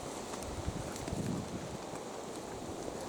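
Wind gusting through a pine wood at night, a soft, steady rush with faint rustling, quiet and unbroken with no voices.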